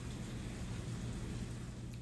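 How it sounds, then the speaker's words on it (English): Steady heavy rain from Hurricane Idalia pours outdoors, a dense unbroken hiss with a low rumbling undertone, close and loud throughout the short stretch, with no talking. "This is the rain."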